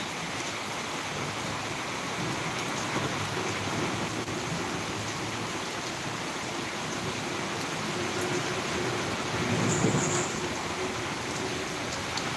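Steady rainfall in Tirunelveli hissing evenly throughout, a dense wash of drops with a brief louder swell near the end.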